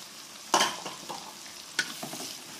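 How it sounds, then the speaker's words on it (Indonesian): Spice paste sautéing in a pan for a stir-fried selar fish dish in sour spicy seasoning, with a quiet background sizzle and two sharp scraping stir strokes followed by softer ones. "Kita tumis sampai bumbunya itu layu atau setengah matang"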